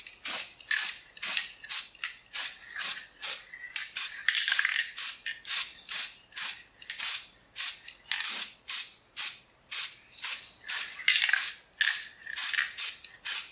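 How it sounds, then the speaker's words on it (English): Short, regular bursts of an aerosol spray can hiss one after another while a rear axle is painted indoors, each spray loud and close, with brief pauses between them. "I'm just painting very gingerly because we're doing this inside"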